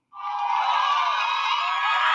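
A courthouse crowd bursts into sustained cheering and applause just after court adjourns, loud and steady from start to finish.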